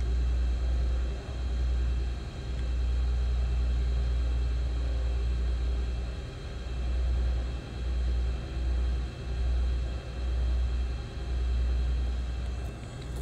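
In the X-Plane 10 Mobile flight game, a Beechcraft Baron B58 taxis with a steady low engine drone and rhythmic rumbling pulses, a faint continuous hum sitting over it.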